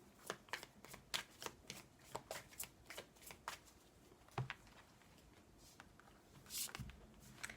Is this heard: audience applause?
no